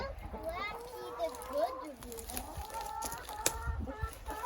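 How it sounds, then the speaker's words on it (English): Chickens and roosters cluck and squawk in a farm coop at evening lock-up, several birds calling in uneven bursts close by over a steady barnyard murmur. "One of these roosters doesn't like me."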